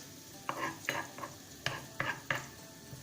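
Eggs for a Chinese omelette cook in a pan, with a handful of short, soft scraping and sizzling bursts spaced irregularly over a faint background, and no speech.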